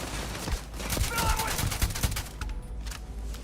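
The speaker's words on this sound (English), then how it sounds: "I'm gonna shoot the guy through the fence." Repeated gunshots from a firefight in the space game Starfield, played in survival mode, crack out as sharp bursts over a steady background, with a voice talking across them.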